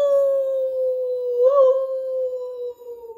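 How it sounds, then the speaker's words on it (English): A cartoon dog's drawn-out howl during a children's story reading holds one steady sustained tone for about three seconds, loud and close, swelling briefly midway before tapering off. "When Elmer got home from obedience school, he howled,"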